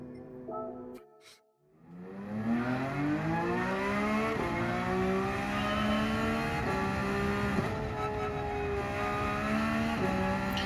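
Engine of a new Porsche race car in Gran Turismo 7, revving steadily and climbing through gears with brief shift dips, loud and continuous after a short quiet start, no talk.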